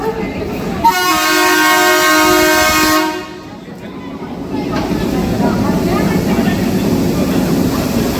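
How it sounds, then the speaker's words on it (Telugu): Diesel locomotive train arriving at a platform sounds a loud sustained horn blast lasting about two seconds, followed by rumbling train noise and station bustle. "బ్యూటిఫుల్ డీజిల్ లోకోతో అయితే మన ట్రైన్ అయితే వస్తుందన్నమాట"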